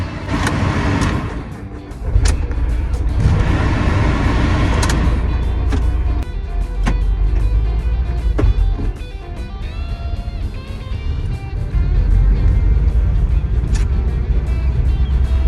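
A loaded van rolls over a rough, uneven road, with a steady loud engine rumble broken by repeated bumps and jolts, and no voices.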